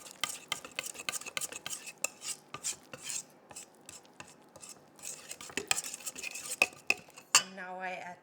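Malt and flour being stirred into bread bun dough in a bowl: quick, close clinks and scrapes of the utensil in a steady irregular rhythm, with a brief voice at the end.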